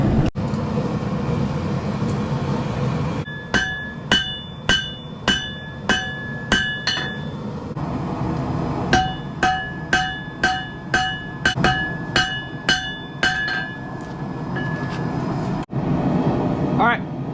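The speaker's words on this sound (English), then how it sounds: "So we're just gonna keep forging." Hammer forging a knife from chainsaw chain: clear, ringing metallic blows land in two bursts of about seven or eight strikes each, each bright clink steady and close over a low workshop rumble.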